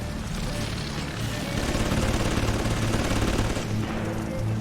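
Gunfire in the video game BioShock 2, a dense, continuous stream of rapid shots and rattling bursts filling the whole stretch at steady loudness, with a brief dip near the start.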